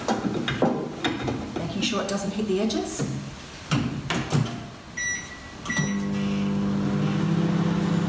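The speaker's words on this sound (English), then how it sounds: "put it into your microwave" A microwave oven heating a shoulder-and-back wheat bag starts up after a door closes, settling into a steady close hum with a low buzz, following a stretch of talk with handling knocks and beeps.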